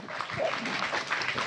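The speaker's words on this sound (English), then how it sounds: "You may give a round of applause." Audience applause at a forum on disaster-response partnership, a steady wash of clapping from a room of people throughout the short stretch, with no talk over it.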